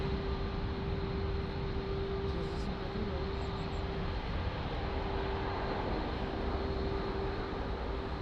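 A jet airliner, an Airbus A321neo, departs from runway 02 at Lisbon Airport, heard as a steady, continuous broadband engine roar with a constant drone that holds unchanged throughout.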